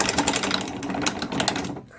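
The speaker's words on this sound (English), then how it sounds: "And then we're going to grind it out" An emerald gemstone being ground on a gem-cutting machine, giving a steady, close, buzzing mechanical grind with rapid vibrating pulses, continuous for a couple of seconds before trailing off.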